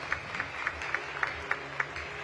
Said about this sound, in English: It's a huge round of applause